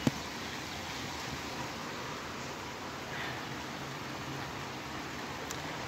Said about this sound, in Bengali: ভালোই বৃষ্টি হচ্ছে সেই সকাল থেকে